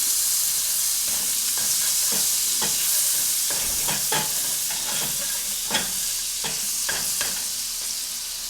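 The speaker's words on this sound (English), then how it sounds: "Melt our other 1/2 tablespoon of butter" Butter melts and sizzles in a frying pan while a grilled cheese and tomato sandwich is being made, a steady close-up hiss with a few soft knocks and scrapes, no voices.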